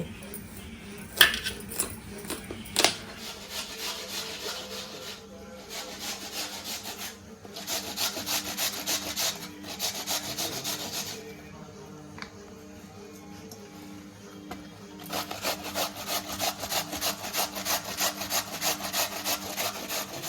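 Coconut being grated by hand at home for a traditional Malvani sweet, with close, rhythmic scraping strokes in bursts separated by short pauses and a few sharp knocks.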